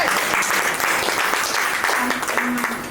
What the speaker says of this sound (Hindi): हमारे सिल्वर डॉक्टर और सिल्वर डायरेक्टर के सम्मान में तालियां हो जाए।